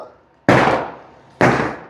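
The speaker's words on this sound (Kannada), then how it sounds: "ಪಟಾಕಿ ಹೊಡಿತಾರ" Two sharp, loud firecracker bursts go off outdoors roughly a second apart, each with a quick decaying tail.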